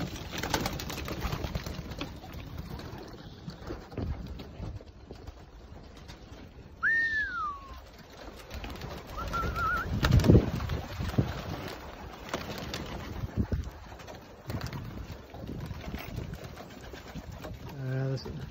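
Racing pigeons in a loft, soft cooing and fluttering amid background noise, with a few louder calls midway and a person talking over them.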